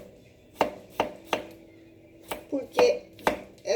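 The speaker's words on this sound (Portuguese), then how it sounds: "aí vamos picar os legumes" Vegetables are chopped with a knife on a board, sharp close knocks in an uneven rhythm of about eight strikes. A word is briefly spoken.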